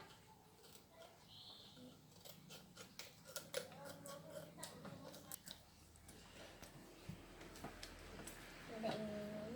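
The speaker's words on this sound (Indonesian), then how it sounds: "Sekarang kita gunting ke sini." Scissors snip through the product packaging of a 4Life Transfer Factor Tri Factor chewable supplement, giving sparse, faint cutting clicks and crinkles over a quiet room, with soft voices now and then.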